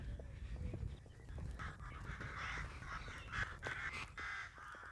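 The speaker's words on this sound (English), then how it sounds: "You can hear the crows and everything today." Crows call faintly in the distance at a quiet coastal spot in Norfolk, a few caws repeating over low outdoor rumble.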